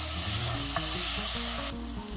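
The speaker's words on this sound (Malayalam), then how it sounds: "പച്ചമണം മാറുന്ന വരെ വാട്ടിയെടുക്കാം." A ground paste of green chilli, garlic and ginger is sautéed in a hot pan for Malabar chicken biryani. It gives a loud, continuous sizzle with close stirring scrapes throughout.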